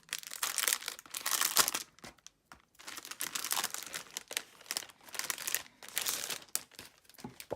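Packaging for planner dashboards is opened with bursts of close paper crinkling and rustling, coming in several irregular waves separated by short pauses.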